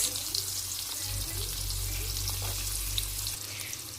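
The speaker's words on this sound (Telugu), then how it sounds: "ఇప్పుడు ఈ ఆయిల్లోనే కొంచెం జీలకర్ర, రెడ్ చిల్లీ అయితే వేసేసానండి. అవి ఫ్రై అవ్వాలి." Cumin, red chili and onions frying in oil give a soft, steady sizzle under a low background hum, fairly faint and continuous throughout, with no talking.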